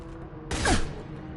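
A single Claymore shotgun blast from the video game Mass Effect 2, a sudden loud close burst with a short descending ring that fades within a fraction of a second.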